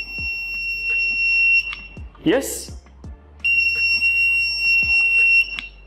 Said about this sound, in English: So we have made a basic buzzer circuit. It turns on the buzzer.